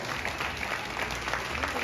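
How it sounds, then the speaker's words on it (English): Brief applause from an audience at a fight press conference in San Antonio, Texas, a dense, even patter of clapping heard from a little distance. "Big round of applause."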